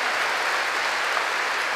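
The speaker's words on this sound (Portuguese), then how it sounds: "vamos aplaudir nossa irmã" Congregation applause during a church service, a dense, even wash of clapping from many people, steady and fairly loud for the whole short stretch.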